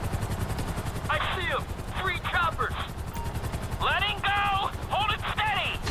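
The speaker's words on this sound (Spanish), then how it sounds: "para que dispare el Esther, ponemos el helicóptero bastante estable." A helicopter in the video game GTA 5 drones with a constant rotor roar throughout, while excited voices talk over it.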